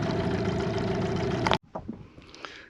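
A boat motor drones loudly and steadily as the boat heads into a cove, then cuts off abruptly partway through, leaving quieter water and background sounds.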